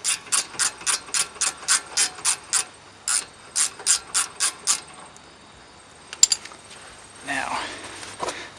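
A ratchet clicks in quick rhythmic bursts while undoing a brake caliper bolt on a Honda Accord, close and distinct, followed by a brief metallic clink and some rustling handling noise.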